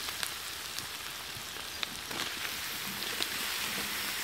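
Tomatoes go into a pan of frying onions and sizzle with a dense, even crackle like rain, a steady close hiss with a few scattered pops.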